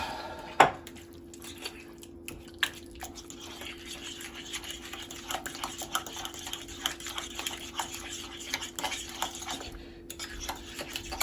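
Spoon scraping and clinking in a bowl while stirring a dip seasoned with Frank's hot sauce, a steady run of soft, quick taps and scrapes, close and fairly quiet, with no one talking.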